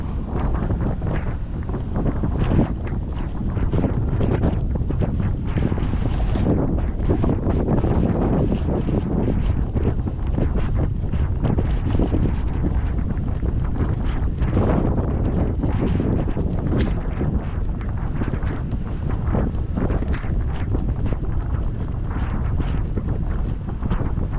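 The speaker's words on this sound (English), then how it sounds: "All right, it's really windy now." Strong wind roars and buffets the microphone nonstop while driving through San Pedro, a loud, steady rushing that never lets up.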